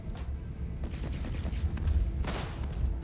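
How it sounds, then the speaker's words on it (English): Rapid bursts of laser cannon and repeater fire in the Star Citizen space combat game, a dense, continuous volley of booming shots with heavy low rumble throughout. "a few hits from the Light Strike 5 laser cannon did away with him once and for all"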